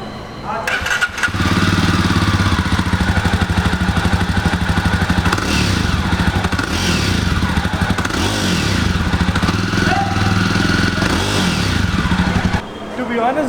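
A Jawa Perak single-cylinder bobber motorcycle cranks and fires after about a second, then settles into a loud, steady, thumping idle close by for the rest of the clip, with some talk nearby.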